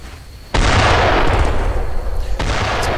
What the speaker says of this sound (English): It's like a mortar fire now.